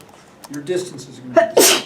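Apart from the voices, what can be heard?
sneeze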